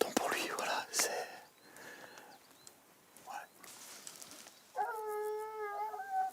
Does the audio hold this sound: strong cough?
no